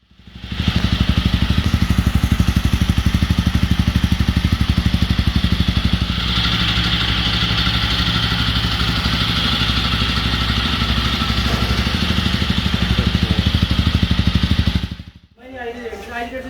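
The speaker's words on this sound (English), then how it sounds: "this is the sound with the stock exhaust" A Jawa 42 motorcycle engine running on its stock exhaust, a steady loud close-up idle with a dense, even thumping pulse that holds for about fifteen seconds, then cuts off abruptly.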